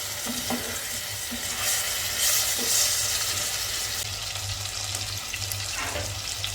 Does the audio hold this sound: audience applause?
no